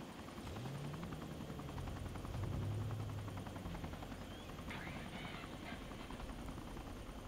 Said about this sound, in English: The helicopters